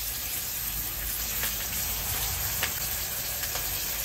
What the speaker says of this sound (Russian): Специально жарим помидоры и перчик в масле, чтобы потом уже не заправлять маслом.